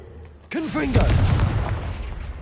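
The Confringo fire spell from the Hogwarts Legacy video game is cast with a whooshing rise, then a loud booming blast that rumbles and fades over about a second and a half, with game tones layered in.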